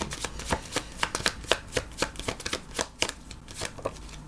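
Tarot cards being shuffled by hand, a rapid series of crisp riffling flutters and soft slaps in an irregular rhythm, close and fairly quiet, with no talking.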